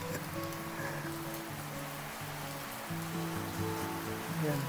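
Rain pours down steadily in a dense hiss at a gas station, with a low engine-like hum running underneath.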